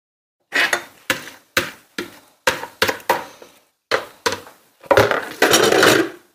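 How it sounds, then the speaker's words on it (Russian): Glass jars and lids handled on a kitchen counter while packing homemade kimchi: about ten sharp, close clinks and knocks at an uneven pace, ending in a longer rattling scrape of glass and metal, with no talking. "Все, перекладываю в баночки"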